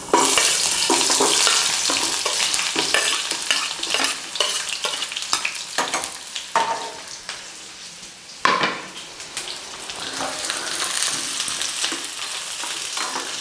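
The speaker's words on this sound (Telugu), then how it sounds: "ఆనియన్ ఫ్రై అవుతుంది కదండి" Onion frying in oil with cloves, cardamom, cashews, cinnamon and pepper for a cashew fish curry, a loud steady sizzle under repeated scraping and stirring strokes of a spoon against the pan, with one sharper clatter midway.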